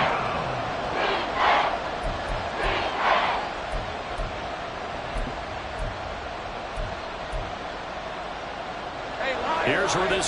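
Stadium crowd noise in a football video game, a steady roar of cheering that swells at moments, with a commentator talking over it throughout.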